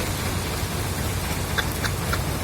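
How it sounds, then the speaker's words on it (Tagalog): Sudden heavy rain pouring down during a storm, a steady broadband hiss of downpour with a few brief sharper drops near the end, no talking. "biglang bumusang ulan"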